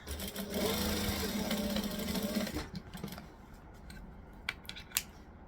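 A sewing machine runs steadily as it stitches the drop-in lining of a bag, whirring close by for about two and a half seconds before stopping. A few light handling clicks follow.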